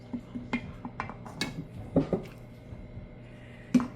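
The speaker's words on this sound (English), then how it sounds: "I'll go ahead and stir it in as I go along." Clinking and scraping of a utensil against a bowl comes in irregular taps as almond flour is stirred into waffle batter, close and fairly quiet.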